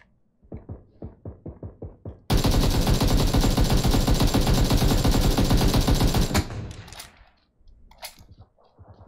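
A long sustained burst of automatic AKM rifle fire in a video game, fired while crouching, loud and continuous for about four seconds, preceded by a run of quick separate footstep-like thumps and followed by quieter clicks.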